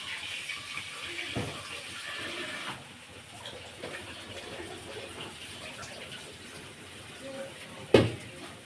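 Tap water runs steadily into a container held in one hand at home, a continuous hissing splash with a sharp clunk near the end.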